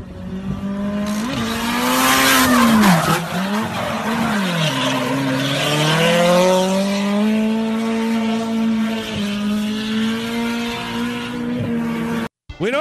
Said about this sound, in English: I'm the drifting guy.